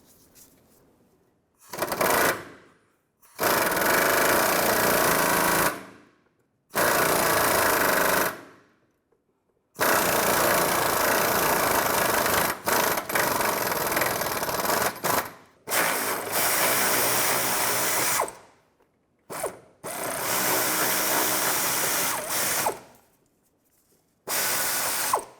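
Ratchet wrench with an 18mm socket loosening a bolt on a 2005-2010 Chevrolet Cobalt during a clutch job, loud close rapid clicking in repeated bursts separated by short silences.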